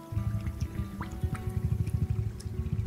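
Water gurgles and bubbles steadily as a bottle fills at a stream in DayZ, with a low churning rumble underneath and small drips on top, close and continuous.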